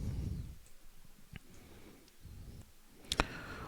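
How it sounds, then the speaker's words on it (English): A single mouse click applies a change while a disk is detached in the Azure portal, a quick sharp tick near the end of an otherwise quiet stretch with faint room noise. "so I can detach from here and then click on apply"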